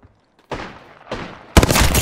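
Gunfire in an Apex Legends battle royale match: two sharp single shots with fading tails, then a loud, dense, sustained burst of rapid fire, with no talking.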